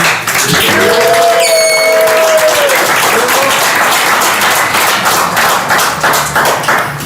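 A studio audience at a hip hop talk show breaks into loud, dense applause and cheering that fills the whole stretch, with a brief whoop rising early on before the clapping carries on steadily.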